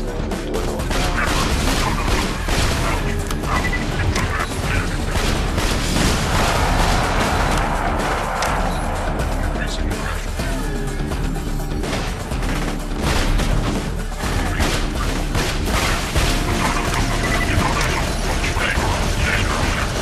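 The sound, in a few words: gunfire and explosions in a video game, shooting mechanical enemies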